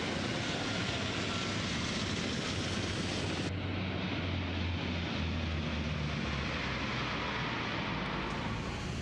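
JF-17 Thunder and Mirage fighter jets of the Pakistan Air Force fly during a navy exercise, a loud continuous engine roar with steady broadband rush that shifts slightly partway through, with no voices.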